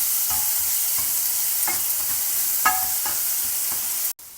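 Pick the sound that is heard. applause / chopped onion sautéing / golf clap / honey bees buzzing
chopped onion sautéing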